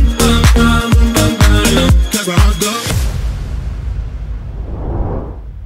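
A deep house track pumps for about three seconds with punchy rhythmic beats and chords, then cuts into a long washy sweep and swelling rumble, loud throughout with no voice.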